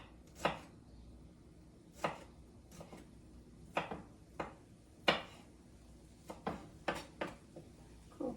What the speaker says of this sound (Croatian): Ovdje imam isto bijeli luk, 2 černice. Pa ćemo ga ovako nasitno iskrižati.